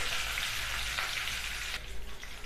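Urad dal, curry leaves and dried chilies fry in hot oil for a sadya-style kootu curry, giving a steady, close crackling sizzle throughout with no voices.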